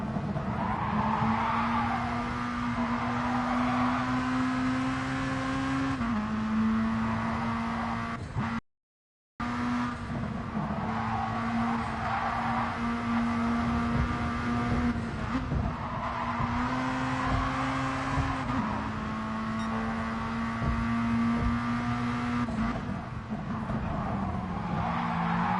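Race car in GT Sport driven hard from the in-car view, engine howling steadily through gear changes with tire squeal in corners, loud and continuous apart from a brief dropout.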